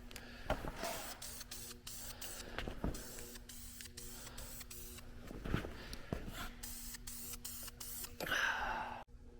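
Short bursts from an aerosol spray paint can coating a part for an S660 combine, repeated hissing puffs with pauses, fairly quiet, and a longer spray near the end.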